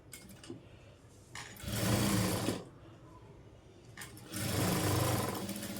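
Sewing machine top stitching a Punjabi dress: two runs of steady, close motor whirring and needle rattle, each about a second or more long, separated by quieter pauses with faint handling clicks.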